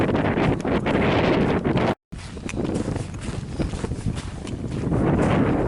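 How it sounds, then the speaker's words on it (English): Strong gusts of high wind buffet the microphone along a crushed limestone trail through the woods of a township community park, a loud continuous roar with one short dropout. "I don't mind be walking through the woods with this high wind."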